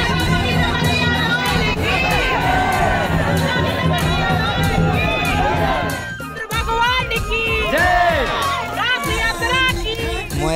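Large, dense crowd at the Rath Mela fair in Hasimara, many voices shouting and chattering at once with children's cries, loud and close, continuous throughout with a brief dip around the middle.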